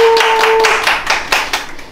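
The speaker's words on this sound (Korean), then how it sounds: "박수로 시작했는데." A small group claps during a class on online shopping mall operations, a handful of close, crisp claps in a quick uneven rhythm, loud at first and tapering off, with a brief tone sounding near the start.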